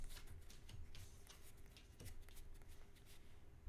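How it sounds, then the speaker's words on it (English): A deck of playing cards is shuffled, heard as a faint, soft riffling and ticking patter of card edges close by, with one sharper snap midway and a thump at the end. "Right, and I get to shuffle my deck"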